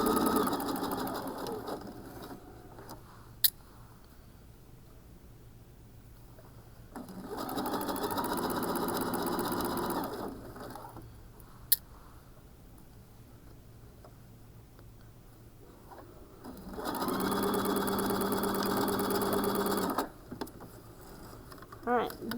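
A sewing machine stitches a scrunchie in three separate bursts of rapid mechanical whirring, close up, with quiet pauses between them and a couple of sharp clicks.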